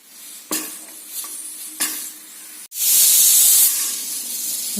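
A few sharp clicks and taps, then a loud sustained hiss of escaping steam bursts in and continues strongly as a pressure cooker cooking Robusta banana curry vents.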